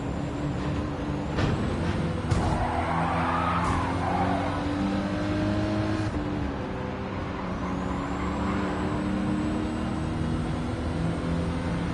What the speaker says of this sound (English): it's like totally Tokyo drifting